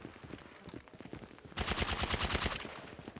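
Rapid automatic gunfire from an SMG or rifle in an online shooter match bursts in loud and close, a fast rattling volley lasting about a second, after a stretch of quieter in-game noise.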